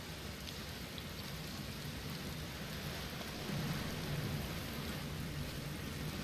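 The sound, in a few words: rain and thunder on a planet in the video game Outer Wilds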